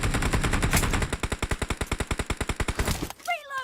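Rapid automatic gunfire from a team-based shooter video game, a steady burst of evenly spaced shots lasting about two seconds, loud and close, then cutting off as chirpy game sounds follow.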